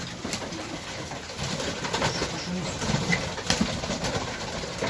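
Mantolu pigeons cooing in a loft, soft low coos scattered through a noisy, breathy background, near but faint with no clear talking.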